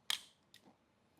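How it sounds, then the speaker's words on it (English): A Pentax SLR camera's mirror lock-up mechanism gives a sharp mechanical click followed by a second, softer click about half a second later, close and quiet with no voices. "You can lock up the mirror."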